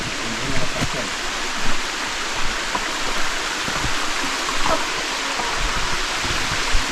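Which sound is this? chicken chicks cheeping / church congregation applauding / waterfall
waterfall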